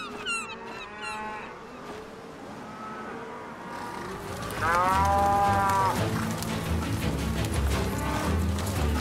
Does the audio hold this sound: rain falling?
no